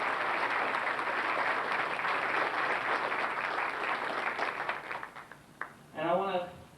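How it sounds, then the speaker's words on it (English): Crowd applause fills a community hall at a borough's 100th birthday celebration, a steady dense clapping that tapers off before a voice starts speaking at the end. "How about a nice round of applause for them?"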